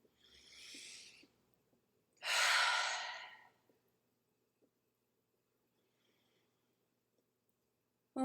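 Two slow breaths before a yoga chant of Om, a soft inhale followed by a louder, longer whooshing exhale, close and alone in a quiet room.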